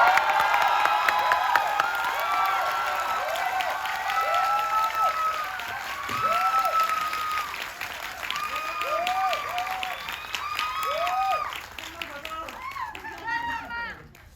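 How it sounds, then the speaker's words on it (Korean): Crowd at a film screening Q&A cheers and claps together, a loud, sustained wash of applause and shouts that gradually fades toward the end. "크게 한번 함성과 박수 한번 보내주세요"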